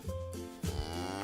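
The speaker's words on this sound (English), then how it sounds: "Now we have a black and white cow." A black and white cow moos twice in a low, drawn-out bovine call, close and clear with a short break between the calls.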